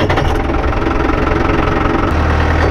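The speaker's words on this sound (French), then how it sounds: "Allez, hop, contact, et je démarre." A tractor engine runs steadily close by, loud and rough with a rhythmic knocking idle, working a sunflower field, and no voices are heard.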